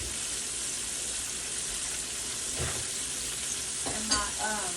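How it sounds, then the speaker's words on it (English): Sliced mushrooms and onions frying in a pan on a stovetop, a continuous close hiss and crackle with a few scraping stirs and faint clinks breaking through toward the end. "now I'm gonna cook my mushrooms, you guys, and my onions."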